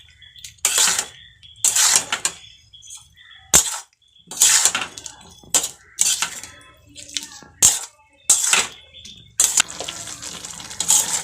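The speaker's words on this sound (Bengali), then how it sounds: "এখন ভালো মতো একটু মিক্স করে আমি মশলাটা ভেজে নেব।" Home cooking of soybean masala in a pan: repeated bursts of sizzling and scraping as spices are stirred and fried, coming in short rhythmic strokes with brief pauses between, close and fairly loud.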